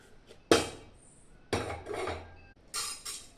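A cooking pot handled in a kitchen while lentils go on to cook, giving three separate metallic clanks and scrapes spaced about a second apart, close and clear with no talk.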